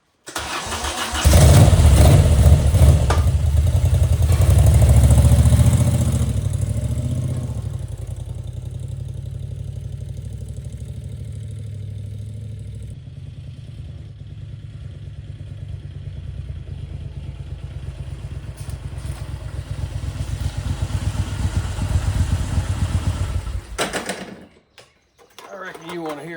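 A 1990 Moto Guzzi California III motorcycle engine cranks and fires into a loud, rumbling rev, then settles into a steady idle that runs on before cutting off near the end.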